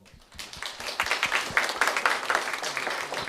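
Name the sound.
audience applause at panel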